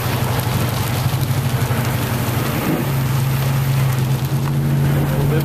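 Heavy rain pours steadily in a dense, even wash of noise, with a low engine hum from passing traffic running underneath the downpour.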